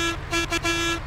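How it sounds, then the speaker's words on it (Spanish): Horn of a Volvo Marcopolo G8 1200 bus in a driving simulation game, sounding as one loud, close, sustained multi-tone blast with a few quick dips in the middle, heard alone without talk. "Escuchemos el claxon. A ver qué claxon trae."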